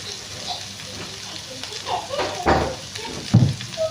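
Coriander and mint leaves fry lightly in hot ghee for paneer pulao, giving a steady soft sizzle with occasional stirring scrapes and pops, while someone talks over the cooking.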